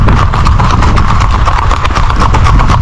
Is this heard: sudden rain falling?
no